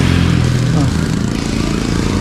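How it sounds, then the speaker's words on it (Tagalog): A motorcycle engine drones steadily while climbing a gentle uphill stretch of Cabrera Road toward a hilltop, loud and close throughout, with someone talking over it. "At syempre maingay yung motor."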